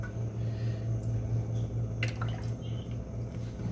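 Cooking oil poured into a pressure cooker while making egg biryani, giving soft trickling and dripping sounds over a steady low kitchen hum, with a few brief splashes near the end.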